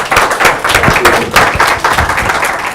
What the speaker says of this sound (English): how about a round of applause for the President of the University of New Orleans?